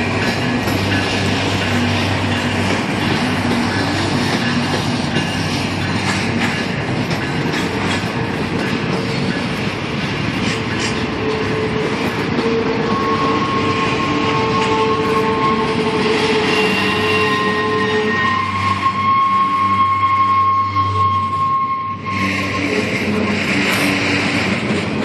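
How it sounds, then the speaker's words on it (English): A long Union Pacific freight train rumbles past nearby, wheels clattering steadily with metallic squeals and ringing tones rising over the continuous roar. "Southbound train here at Union for the entire day"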